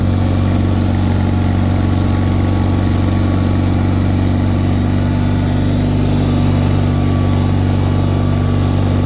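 A Bolens HT-23 garden tractor engine runs steadily below full throttle, a loud, close, continuous low drone with a rough exhaust note and no breaks.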